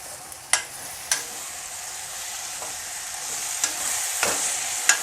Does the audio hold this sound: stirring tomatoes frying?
yes